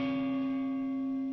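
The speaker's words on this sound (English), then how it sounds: "we got to get a good bell going here" A single bell sound effect rings out with a clear, sustained metallic tone that decays slowly on its own, with no voices over it.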